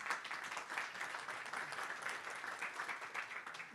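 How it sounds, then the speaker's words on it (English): Conference audience applauds a speaker after his presentation on connected and automated mobility, a steady, moderately quiet patter of many hands clapping without pause. "Applause for Pedro."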